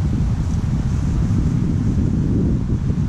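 Strong, steady wind roars across the microphone beside a park lagoon where someone is fishing. Loud, continuous buffeting rumble runs the whole time with no voices.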